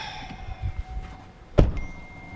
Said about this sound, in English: I need to roll my window up real quick.